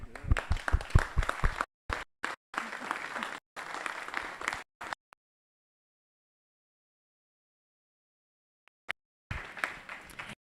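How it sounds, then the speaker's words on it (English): A crowd claps for student teams at the IGLUNA 2021 field campaign inauguration, bursts of applause broken by abrupt gaps and a long silence before clapping resumes near the end. "perhaps to add another clap for the student teams"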